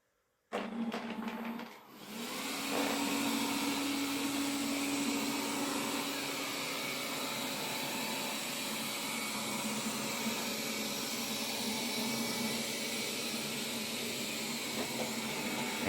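A Wyze robot vacuum cleaner starts up after a brief click and then runs with a loud, steady whirring hum, somewhat louder than a Shark model, continuing without talk.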